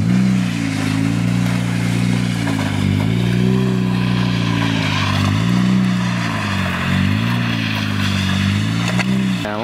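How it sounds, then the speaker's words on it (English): A Honda Civic is being drifted, its engine droning loud and close in a sustained rev that dips and climbs in pitch, with no talking over it. "That's how you drift a Civic right there."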